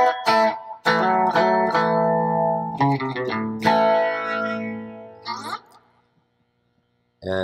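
Electric guitar run through GarageBand's country djent amp preset, playing a string of loud, distorted chords and short riffs with a sharp attack, ringing out and then stopping, with a brief burst of notes at the very end.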